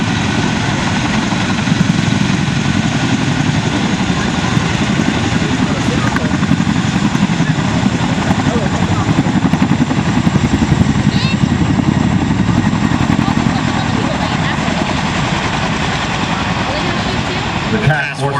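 Helicopters fly overhead during an 82nd Airborne Division airborne review demonstration, a loud, steady, close engine-and-rotor roar that fills the whole stretch without letting up.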